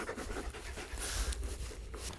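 A dog pants rapidly and steadily nearby at a winter campsite, quick rhythmic breaths continuing throughout at moderate loudness.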